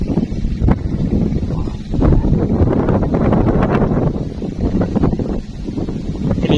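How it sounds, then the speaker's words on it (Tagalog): Strong wind roars and buffets the microphone continuously outdoors during airgun fishing, loud and gusty, with rustling underneath. "Malakas ng hangin."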